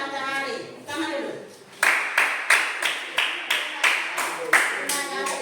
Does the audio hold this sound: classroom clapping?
yes